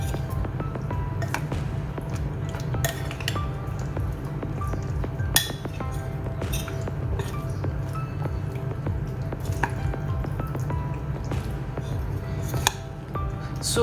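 Chicken pieces are mixed by hand with egg and corn flour in a bowl, a steady wet squishing with sticky squelches and occasional clinks, close and continuous over a low background hum.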